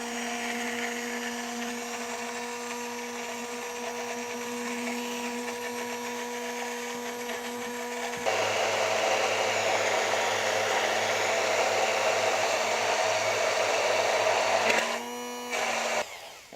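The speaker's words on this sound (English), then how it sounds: "we put the blender all the way to the very bottom and fire it off." Hand blender whirring steadily at the bottom of a container while emulsifying eggless mayonnaise, a continuous close motor drone that rises in pitch and loudness partway through, then briefly sputters and cuts out.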